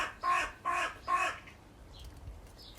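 A crow-like bird calls outdoors on a quiet, cold evening, three harsh caws in a steady rhythm, close and loud, followed by a few faint distant chirps.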